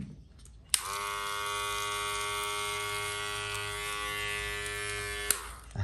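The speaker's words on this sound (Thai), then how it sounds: "เดี๋ยวผมจะลองเปิดตัวนี้ดูนะครับ" A powerful 7000 rpm electric hair clipper switches on and runs with a steady, bright, rasping buzz rich in overtones for several seconds before clicking off, close-up and alone.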